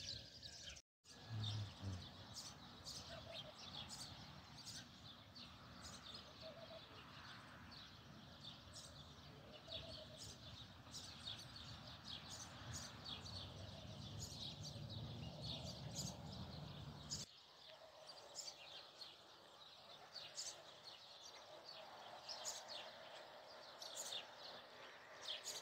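Sparrows chirp in the early morning around a village in Saudi Arabia, a faint scatter of quick tweets repeating over soft outdoor ambience, with a brief dropout near the start and a quieter background later.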